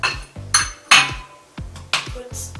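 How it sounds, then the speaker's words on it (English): A normal household bowl, used for washing makeup brushes, is set down and handled, giving about six sharp ceramic clinks and knocks with short ringing tails, spaced irregularly and close by, with no talking. "Just take a normal household bowl."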